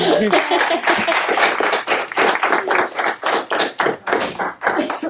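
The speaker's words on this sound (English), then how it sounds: "Let's give them a round of applause." A small audience at a college event claps, a close and uneven patter of individual hand claps with distinct separate strikes, some voices mixed in underneath.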